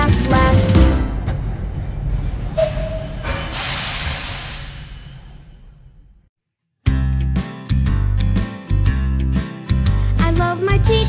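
A train in a kids' dance song rumbles and hisses with a squealing whistle-like tone that fades out, followed after a brief silence by bouncy rhythmic music.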